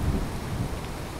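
Steady thunderstorm rain from the video game Skyrim, a dense hiss of downpour with a low rumbling thunder underneath, continuous and enveloping with no voices.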